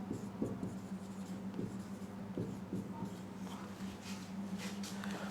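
Marker or chalk strokes on a classroom board during an English vocabulary lesson, steady scratchy writing sounds with repeated short strokes, close and moderately loud over a low background hum.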